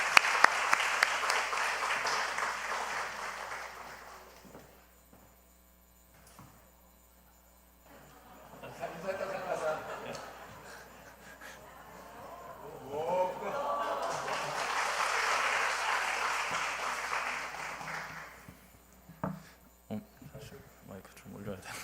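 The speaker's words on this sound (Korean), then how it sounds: "우리 박수로 격려하겠습니다." A church congregation at a baptism ceremony claps in two sustained rounds of applause, the second swelling louder. Speech is heard before, between and after the clapping.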